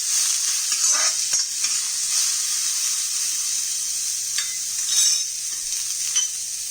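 Sliced capsicum and onions sautéing in a little oil over a high flame, a steady bright sizzle with occasional scrapes of a stirring utensil against the pan, close and continuous.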